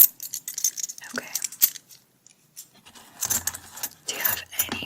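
A set of keys jangling in irregular bursts of bright metallic clinks, close and fairly soft, with quiet gaps between shakes.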